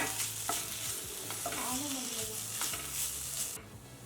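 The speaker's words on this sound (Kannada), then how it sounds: "ಶುಂಠಿ ಬೆಳ್ಳುಳ್ಳಿ ಪೇಸ್ಟು ಗ್ಯಾಸು ಲೋ ಫ್ಲೇಮ್ ಇಟ್ಕೊಂಡೆ ಹುರ್ಕೊಳ್ಳೋಣ ಹಸಿ ವಾಸನೆ ಹೋಗೋವರೆಗೂ ಹುರ್ಕೊಳ್ಳೋಣ" Ginger garlic paste frying on a low flame for a sweet corn masala curry, a steady close sizzle broken by repeated scrapes and stirring clinks of a spoon in the pan, running alone without talk.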